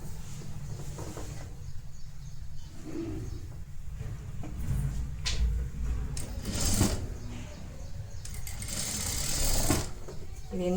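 A sewing machine runs steadily, stitching a half-inch seam on a netted blouse folded on its wrong side. The close, continuous mechanical whir carries a few slight pauses and shifts in pace.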